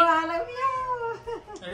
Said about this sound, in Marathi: ओरडली मांजर घाबरून